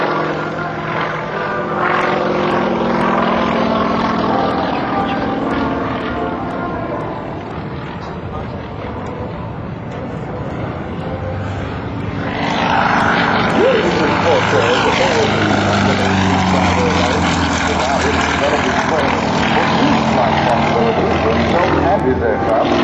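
A propeller aerobatic airplane flown by Jurgis Kairys at the 2006 NAS/JRB Willow Grove air show drones loudly and steadily, its engine note rising as it climbs, with a crowd or announcer's voice mixed underneath.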